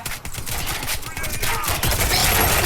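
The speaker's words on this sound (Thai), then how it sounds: "มีคนเอาปืนเก็บเสียงมาด้วยเหรอวะ" Rapid bursts of suppressed gunfire from the shooter game Warface, zombie mode, in dense continuous volleys with a busy game soundscape throughout.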